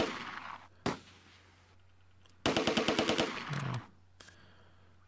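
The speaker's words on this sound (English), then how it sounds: "Get all the small arms fire we can into that machine gun position to suppress it." Small arms fire pours onto a machine gun position in the WWII strategy game Close Combat: A Bridge Too Far. Isolated sharp shots are followed by a rapid, loud burst of automatic fire, and one voice speaks briefly.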